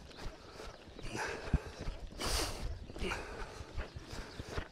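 A horse's hooves clip-clop at a steady working pace during a calming exercise in a confined riding space, close by with irregular thuds and some background rustle.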